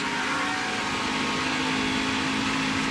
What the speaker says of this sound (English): You hear him get out of the throttle.